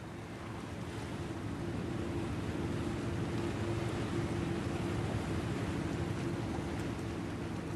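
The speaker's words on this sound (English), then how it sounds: "only barges interrupted with their low-frequency noises the light whisper of water and seagull cries" Steady low rumble of passing barge engines over gently lapping water in Brabant, Netherlands, with a constant windy wash; no distinct bird cries stand out.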